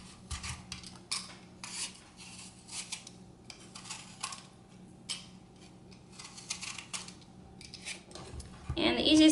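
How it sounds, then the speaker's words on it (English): An apple being peeled by hand with a knife in a home kitchen, quiet rhythmic scraping and rasping strokes repeating close by, ending with a brief louder clatter. "we're just going to peel the apple"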